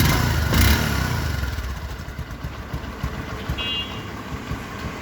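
A second-hand Bajaj Discover 125 motorcycle idles with a steady low engine putter, close and continuous, with a brief louder burst near the start.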